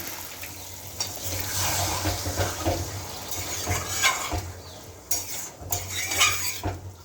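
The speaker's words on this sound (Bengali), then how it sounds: "এঁচড় সেদ্ধ করা জলটা দিয়ে দিলাম" Hot water left from boiling jackfruit poured into a pot of Bengali jackfruit and prawn curry with fried fish, then stirred, with metal spoon scraping and clinking against the pot and liquid sloshing at close range.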